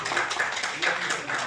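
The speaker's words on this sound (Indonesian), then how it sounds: "Tepuk tangan buat kita semua" Many people clap together in a steady, dense wash of applause, with voices mixed in.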